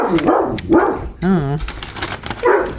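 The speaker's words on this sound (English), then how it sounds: "there's dogs down the street" Dogs bark and yelp from down a street in North Pole, Alaska, in short bursts with one drawn-out whining howl.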